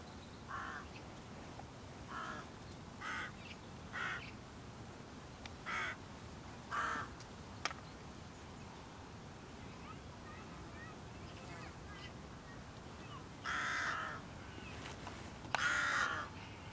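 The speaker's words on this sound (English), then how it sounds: "A group of hooded crows have settled into the field" Hooded crows caw from a stubble field, a series of harsh calls at a distance, spaced every second or two, then a louder burst near the end over faint wind.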